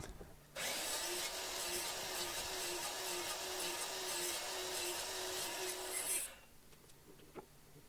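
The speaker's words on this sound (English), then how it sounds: "I use on my miter saw a stop, so that way I get the same distance cut every time" A power saw cuts through wood for a chess board project, a loud steady whirring cut lasting several seconds, then stopping to quiet with a small knock.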